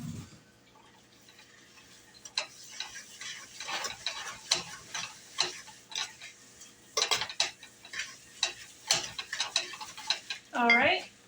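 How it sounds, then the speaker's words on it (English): A spoon stirs spice cake batter in a bowl, with repeated soft scraping and tapping strokes in an irregular rhythm, close and quiet, ending with a louder clatter. "And we'll give that another little stir."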